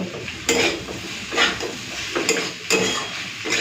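Poppy seed paste fries with potato and ivy gourd in a pan, a steady sizzle broken by repeated scraping stirs of a spatula, close and loud with no voices.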